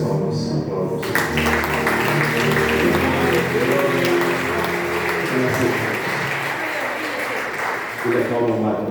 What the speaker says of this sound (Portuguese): Que as palmas aplaudam o Senhor.